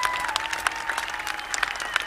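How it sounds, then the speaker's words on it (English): A crowd claps and cheers for an injured fighter at a Battle of the Nations 5 vs 5 medieval combat tournament in Prague, dense continuous applause with scattered sharper claps. "And he's getting the cheers from the crowd"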